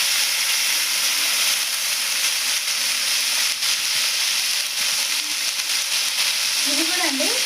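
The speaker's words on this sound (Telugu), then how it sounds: "కొద్దిగా చిన్న మంట మీద తెచ్చి ఫ్రై చేస్తే బాగుంటుందండి" Fresh mint leaves fry on a low flame, giving a continuous soft, even sizzle with a faint steamy hiss, close and steady throughout, with a few light stirring touches.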